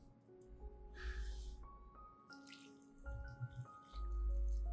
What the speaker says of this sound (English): I'll treat the pine bark before planting by pouring boiling water over it to sterilize it